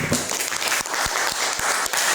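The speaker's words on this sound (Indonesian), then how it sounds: "tepuk tangan buat dia" Classroom audience applauding a student after a poetry reading at a high school, steady dense clapping with a few sharper individual claps standing out near the front.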